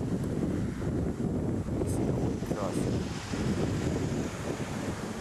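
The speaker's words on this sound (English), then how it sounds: "I think kind of a windy day, but can't complain" Steady wind buffeting the microphone beside the Mississippi River, a constant low rumble with faint water sounds beneath and no clear talking.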